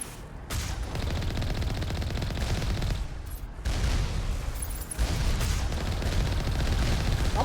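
Moving turrets in the video game Mass Effect fire rapid bursts of heavy gunfire that come as dense, loud volleys separated by brief pauses.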